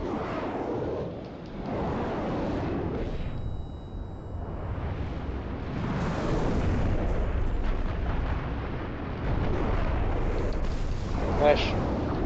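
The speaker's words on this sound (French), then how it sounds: "elle tire trop fort" Gunfire from a weapon in Halo: The Master Chief Collection on Xbox, heard as repeated booming bursts through the clip, mixed with game noise and talk.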